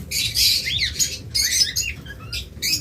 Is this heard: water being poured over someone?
no